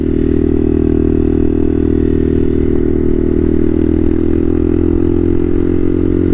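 A motorcycle engine runs steadily in third gear at high revs, a loud continuous drone with a fairly constant pitch and no break or speech.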